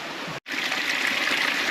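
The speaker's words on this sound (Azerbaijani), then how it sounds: "Belə bir mini şəlalədir." Small mountain waterfall of clean spring water, a continuous hissing trickle and splash heard close by on its own, with a momentary dropout near the start.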